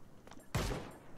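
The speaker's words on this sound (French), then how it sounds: "Pourquoi vous tirez de si long et sans marche?" A single sharp gunshot in the Ring of Elysium video game, a sudden loud crack with a low thump and short decaying tail, preceded by faint quieter sounds.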